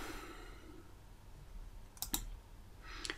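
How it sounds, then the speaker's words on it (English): A computer mouse clicks on a save button in form-building software: two quick, faint, close clicks in a row against quiet room tone, followed by a softer click, with no talking. "click on save."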